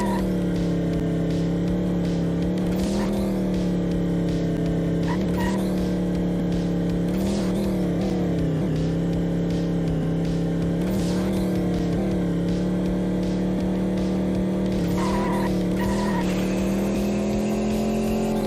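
Racing video game car engine drones loudly and continuously, with shifting revs and occasional tire squeals and skids, heard alone throughout.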